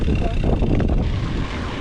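Steady low rumbling wind buffeting the microphone during a cross-country mountain bike ride on a trail through the Guînes woods, continuous and loud throughout.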